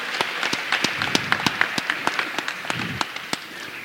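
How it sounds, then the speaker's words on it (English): Scattered, moderate applause at a Harley-Davidson dealership gathering, individual sharp claps from a modest group standing out clearly, fairly near and steady for a few seconds. "Give her a round of applause"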